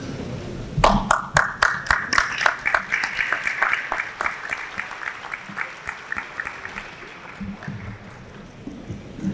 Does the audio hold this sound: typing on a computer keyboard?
no